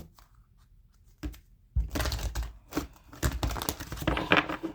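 A Wisdom of the Oracle card deck being shuffled by hand for a tarot reading: after a quiet start, rapid, close bursts of papery riffling and flicking of cards continue steadily.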